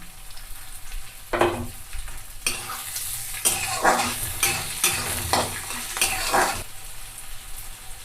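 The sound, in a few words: green chilies and onion frying in oil with garlic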